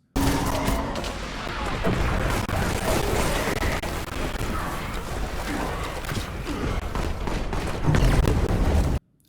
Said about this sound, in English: My favorite secret being the void grenade.